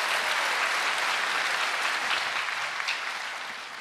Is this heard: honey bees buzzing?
no